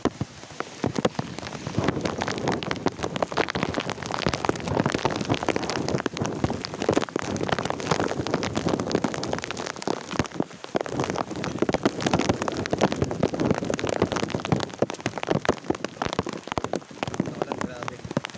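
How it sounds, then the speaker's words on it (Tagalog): Sudden heavy rain pours steadily onto surfaces, a dense continuous patter close to the microphone with light wind noise, no talk, lasting throughout. "Biglang umulan."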